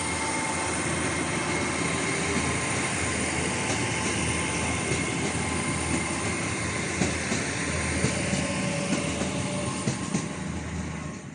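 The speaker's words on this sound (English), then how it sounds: "shortly going out is 800-034, Joe Prosser, off to Exeter St David's" A Class 800 train, unit 800-034, departs Totnes station for Exeter St David's with a steady, loud rumble and rail roar that fills the whole stretch, close by and without talk.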